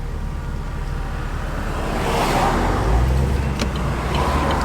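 A sports car engine rumbles steadily and swells louder midway as the throttle is opened, a close, continuous motor roar with no one speaking.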